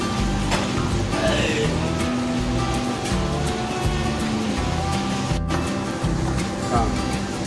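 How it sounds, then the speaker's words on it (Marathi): Cumin seeds sizzling in lightly heated oil in a kadhai while tempering for stuffed brinjal, a steady loud hiss filling the clip with a few faint clinks. "तेल जरासं तापलंय आणि जिरं टाकलंय"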